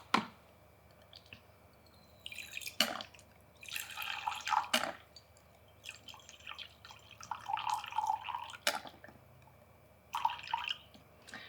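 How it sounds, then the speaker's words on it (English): Distilled water poured into a small batch of homemade niacinamide toner, heard as intermittent splashing, trickling and drips in bursts with quiet pauses between, close and fairly soft. "I need to add 57 grams of distilled water"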